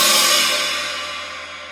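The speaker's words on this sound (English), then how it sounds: "This is an 18-inch china, another Zildjian" A single loud, close crash from an 18-inch Zildjian china cymbal, bright and trashy with a gong-like wash that decays slowly over nearly two seconds.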